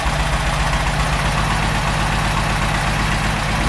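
A warm car engine idles steadily during a crankcase breather check, giving a close, even, low rumble with a constant rhythm throughout and no voices.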